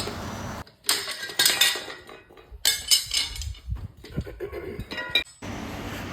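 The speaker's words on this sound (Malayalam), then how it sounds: "പുതിയ പ്ലേറ്റ് അടിച്ച് ഇച്ചിരി ഷേപ്പാക്കാനുണ്ട്" A hammer strikes new steel leaf spring plates from a vehicle to shape them, giving loud, ringing metallic clanks in uneven bursts with short pauses between.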